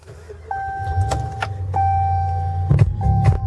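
Inside a 2013 Dodge Ram 1500 Laramie Longhorn, the ignition engages with chimes and a cranking start, the engine catching and settling into a close, steady idle.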